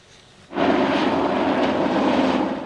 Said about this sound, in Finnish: Ilmassa pörräävät helikopterit